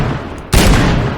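A sudden burst of SMG fire in a Half-Life 2 mod test map erupts after a quiet lull, loud and dense, with sharp rapid shots sustained to the end.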